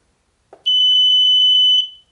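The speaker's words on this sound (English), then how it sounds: "So if it beeps, that means the pass-through is working in order." A multimeter's continuity test gives a single sustained, piercing electronic beep lasting about a second, close and clear, after a faint click, checking the pass-through on a Sony SA-CS9 subwoofer.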